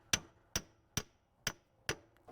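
A hammer taps a CV axle into the hub of a Subaru Legacy, five sharp, evenly spaced metallic knocks about half a second apart, clear and close with quiet between strikes.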